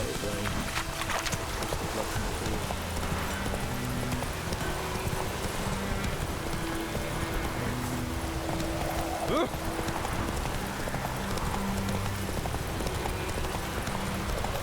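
Rhythmic hoofbeats of a galloping horse in The Witcher 3 patter continuously at moderate volume over a dense background of ambient game sound, with no speech.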